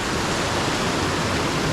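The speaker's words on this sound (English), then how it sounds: "So this is the Clinton River." The Clinton River running high in flood on a hiking track, a steady, loud, unbroken rush of churning water filling the whole stretch with no breaks or voices.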